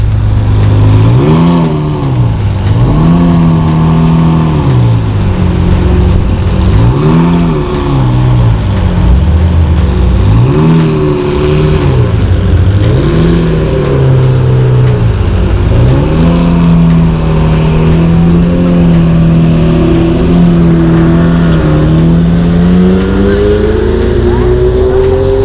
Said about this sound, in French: Ça c'est un V12 qui quand il monte dans les tours, on dirait une Formule 1